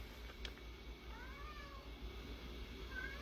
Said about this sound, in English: Oh, my cat's deciding to go crazy.